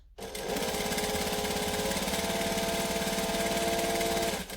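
A sewing machine stitches around a garment sleeve in one continuous, even run of rapid mechanical whirring, close and steady from start to stop.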